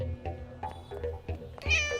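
A cat meows several times in short, close, repeated cries, with the last call rising louder and longer, in a quiet domestic room.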